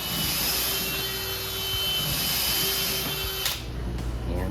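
A DeWalt 20V XR 3-speed hammer drill spins in regular non-hammer mode with a steady, close, high-pitched whine that briefly cuts off near the end.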